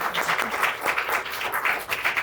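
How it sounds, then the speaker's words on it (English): Audience applause for festival panelists in a book festival room, a steady wash of many hands clapping for about two seconds with no talking over it. "a round of applause for Tiana and"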